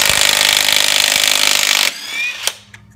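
A Mensela 18V cordless impact wrench spins a nut off in reverse with a loud, continuous buzzing hammer for about two seconds, then cuts out, leaving quieter clatter and a brief knock.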